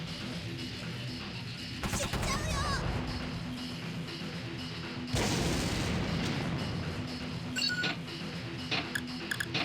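Tank cannon fire in the video game War of the Human Tanks: loud crashing booms with a burst near two seconds and a heavier blast around five seconds, over steady game noise with a voice speaking.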